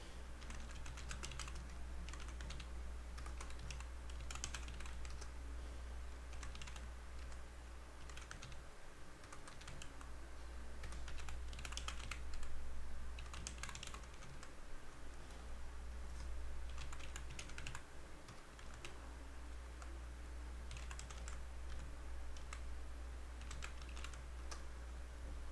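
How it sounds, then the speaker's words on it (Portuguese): Someone types on a computer keyboard while building a simple Excel spreadsheet: quiet, steady key taps in irregular bursts over a constant low hum, with no talking. "vou digitar aqui uma planilha simples."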